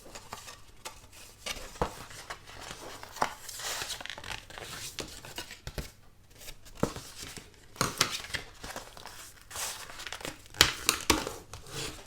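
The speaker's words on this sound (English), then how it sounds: "I'm going to start by folding and burnishing on the score lines that are already in the file for you." Thick white cardstock is folded and burnished along score lines, producing close, quiet crinkles, creases and rubbing scrapes in irregular bursts with short pauses between them.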